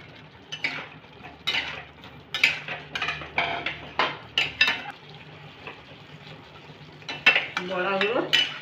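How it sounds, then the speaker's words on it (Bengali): Jackfruit fritters drop into a hot pan of gravy and get stirred, giving repeated close scraping and clattering strokes of a spoon against the metal over a low bubbling simmer, with no talking. "বড়াগুলো ছেড়ে দিয়েছি। এবার আমি একটু নেড়ে নেব"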